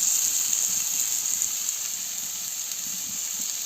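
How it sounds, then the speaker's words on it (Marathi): Onion frying in oil over a wood-fired stove gives a steady, even sizzle with a bright hiss. It stays constant and close throughout, with no talking. "तेलामध्ये पण चांगला असा फ्राय होऊन द्यायचा आहे कांदा"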